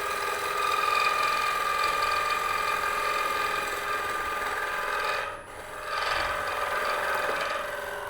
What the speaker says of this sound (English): This, again, just my parting tool.